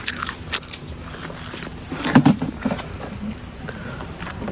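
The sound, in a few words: biting into a freshly picked apple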